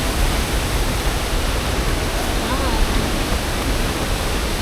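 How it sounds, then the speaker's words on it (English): Tinago Falls, a hidden waterfall in Iligan City, Mindanao, Philippines, roars as a steady, broadband rush of falling water that stays even and continuous throughout. "A very beautiful waterfall."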